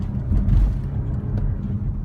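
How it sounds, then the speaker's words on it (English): Petrol engine of a 2016 BMW X5 40e plug-in hybrid running while the SUV drives, a low, steady rumble with road and cabin noise, heard from inside, moderately loud and unbroken. "So now you can hear the engine."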